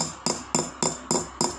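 Metal is hammered toward set stones in stone-setting jewelry work: six sharp, evenly spaced taps ring out close and crisp in a steady rhythm, with nothing else in the background.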